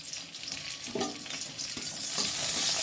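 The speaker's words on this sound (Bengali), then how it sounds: "তেলের মধ্যে দিয়ে দেবো দুটো লঙ্কা" Two chillies dropped into hot frying oil after fish has been fried, a bright steady sizzle that swells and crackles louder as they hit, with a couple of soft stirring clinks, close and without talk.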